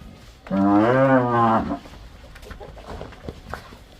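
A dairy cow on a farm gives one loud, drawn-out moo lasting about a second, then quieter farmyard background with faint bird calls follows.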